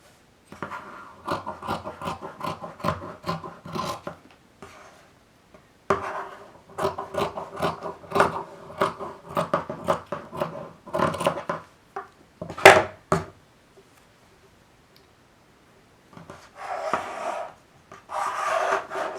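Scissors snip through minky plush fabric around an embroidery hoop, in bursts of repeated close rasping cuts separated by pauses, with one sharper louder snip partway through and no speech.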